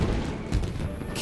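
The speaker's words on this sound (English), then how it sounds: "So, Yumiya, these fireworks, what do they mean to you?" Fireworks bursting during a Genshin Impact game cutscene, a few dull booms and crackles heard close behind a continuous bed of sound, with voices present.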